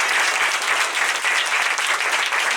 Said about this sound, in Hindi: जिन्होंने किया था वो जोर से ताली बजाएंगे।